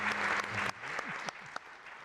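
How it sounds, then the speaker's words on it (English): Audience applause at an energy forum, a steady wash of many hands clapping that thins out partway through, with a few isolated claps and faint voices trailing after. "Round of applause for all 4 of our interlocutors today"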